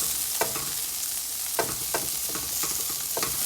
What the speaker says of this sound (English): The key is to keep stirring.